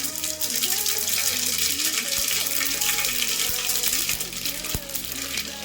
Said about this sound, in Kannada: ಎಣ್ಣೆ ಕಾದಿದೆ. 1 ಟೇಬಲ್ ಸ್ಪೂನ್ ಸಾಸಿವೆ, 1 ಟೇಬಲ್ ಸ್ಪೂನ್ ಜೀರಿಗೆ ಹಾಕೊಂತ ಇದೀನಿ